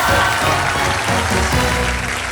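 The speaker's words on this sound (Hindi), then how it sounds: "बिल्कुल सही जवाब, जोरदार तालियां।" Loud, dense applause from a studio audience on a Hindi Wheel of Fortune game show, a continuous close wash of clapping with a faint tonal music bed underneath.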